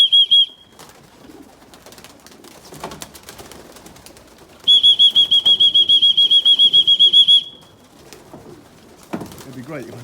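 Racing pigeons around a backyard loft, wings flapping as the birds drop in and trap, with two bursts of a loud, rapidly repeated high whistle-like tone and soft cooing and rustling between them, plus faint voices.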